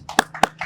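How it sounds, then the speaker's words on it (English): Three sharp, separate claps follow a game-show contestant's win, close and evenly spaced about a quarter second apart, with faint voiced sound between them. "let's give him a round of applause"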